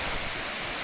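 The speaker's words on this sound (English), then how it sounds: "we have reached the twin waterfall" Roaring broadband rush of the large twin waterfall in Bali, dense and steady throughout a brief moment, loud and close, no talk.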